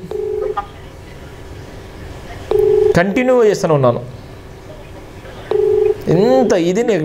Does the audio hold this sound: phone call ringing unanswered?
yes